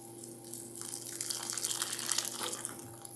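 Hot water pours and splashes steadily over noodles in a container for a few seconds, fairly soft and close, with no talking.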